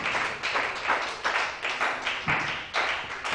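A church congregation claps in a steady rhythm, with dense overlapping claps pulsing roughly twice a second, close and fairly loud with no talking.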